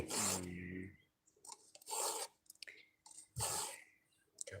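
A hand file sharpens the teeth of a pruning saw blade, each stroke drawn down in one direction. Close, dry rasping strokes come in separate bursts with short pauses between them, alone and without talk.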